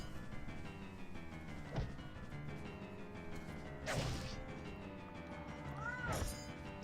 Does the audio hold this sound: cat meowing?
yes